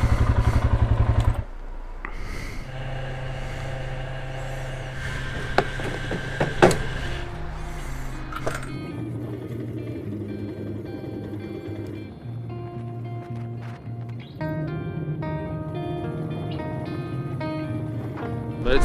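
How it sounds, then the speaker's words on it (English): Royal Enfield Himalayan motorcycle being ridden on a trip in Scotland, a steady low engine drone with gear-change shifts in pitch, wind rush and occasional clatter throughout. "it's so nice to be back on the bike again"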